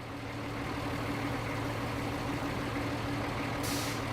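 A video-game truck engine idles steadily, a continuous low rumble with a faint hum holding through the whole stretch, and a brief hiss of air near the end.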